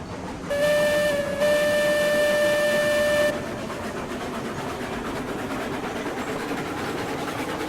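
Small steam locomotive in the RailRoads Online game pulling out with a loaded train: a loud, sustained steam whistle blows in two blasts over about three seconds, then fades into steady chuffing and rolling rumble.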